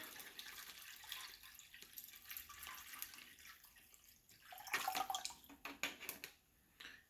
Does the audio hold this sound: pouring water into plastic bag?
yes